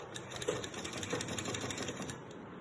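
A sewing machine runs steadily, stitching a hook strip onto a blouse, its needle clattering in a fast, even rhythm close by without pause.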